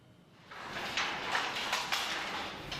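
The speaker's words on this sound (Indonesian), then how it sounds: "Bunyi irama ketukan kayu menyelimuti ruangan ukuran 600 meter persegi ini." Wooden knocking of traditional Riau songket weaving looms fills a large 600-square-metre workshop, a few soft, irregular taps over a steady broad room hiss, moderately distant.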